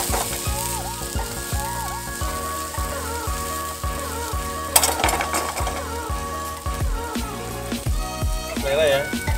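Onion and long red chili sizzle and fry in a pan for a prawn and petai oyster-sauce dish, a steady crackle with periodic stirring scrapes, under background music.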